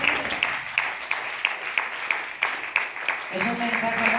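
A church congregation claps in a steady, even rhythm of sharp, close-packed claps. A murmur of voices sits underneath, and a musical tone enters near the end.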